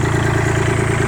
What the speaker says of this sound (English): Hopefully you can hear me over the tractor.